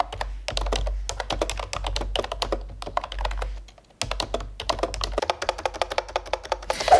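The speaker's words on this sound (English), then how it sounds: "a little snippet of how the keyboard sounds" Computer keyboard typing in a home office, a steady run of close, crisp keystrokes with brief pauses and a short break midway, heard alone without speech.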